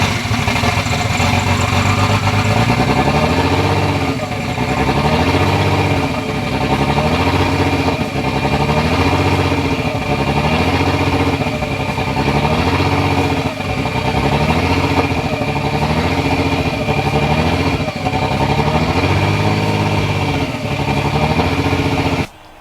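A Nissan Skyline R32 engine runs steadily after being started, a loud continuous idle with a repeating rise and fall in pitch every couple of seconds, close by and alone for the whole stretch.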